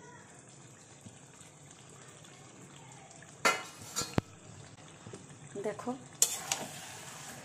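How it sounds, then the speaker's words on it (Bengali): Mutton cooks in a pan covered with a plate, giving a faint, steady sizzle with occasional louder clinks and scrapes of the plate and utensils, while a voice speaks briefly. "এবার আমি থালা দিয়ে মাটনটাকে ঢেকে রাখছি।"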